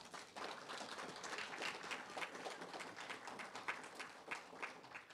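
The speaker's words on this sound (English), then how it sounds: "Let's give them another round of applause" Audience applause at a university conversation event, a steady, moderately quiet patter of many hands clapping continuously throughout, with no talk over it.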